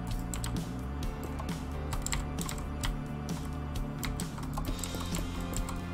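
Loud mechanical computer keyboard typing, rapid uneven clacks and key bursts heard close and steady throughout, with no talking over it.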